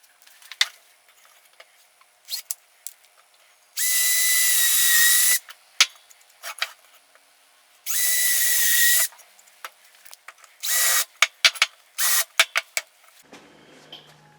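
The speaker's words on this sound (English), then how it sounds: "I'll cut it out on the bandsaw." Bandsaw cutting curved pieces of wood for a lathe stand, heard in two long, loud, steady bursts of blade noise. Short clicks and handling knocks come between the cuts, and a third, shorter cut follows near the end.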